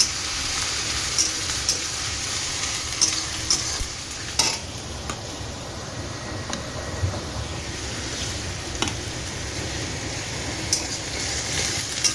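Potatoes frying in a pan of oil with dry red chillies, cumin and whole spices, steady sizzle under occasional stirring and clinks of a spatula, close and continuous without talk.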